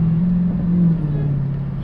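A Dodge Challenger SRT Hellcat fitted with a Legmaker intake gives a short, near engine note on a light-throttle downshift, a droning tone that rises and then eases off.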